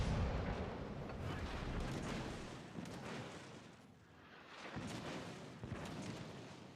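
Battleship 16-inch naval guns fire in World of Warships: Legends, a series of deep, fairly distant booms with rumbling tails rolling under a constant low battle din.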